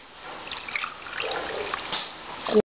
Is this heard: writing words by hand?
no